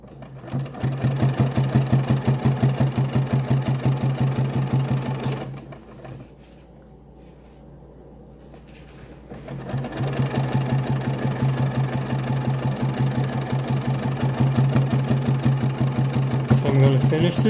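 A sewing machine runs steadily while stitching a Costco down throw being made into an underquilt, a loud continuous whirring hum that pauses for a couple of seconds midway before resuming.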